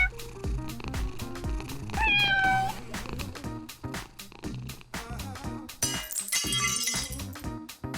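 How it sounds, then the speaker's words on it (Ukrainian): A domestic cat meows several times close by, one drawn-out rising meow standing out clearly, mixed with clinks, knocks and household clatter at a moderate level. "Не спілкуватися ж з кішкою."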